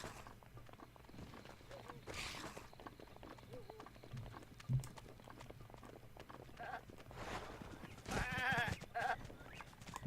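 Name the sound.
goats bleating in the video game Breath of the Wild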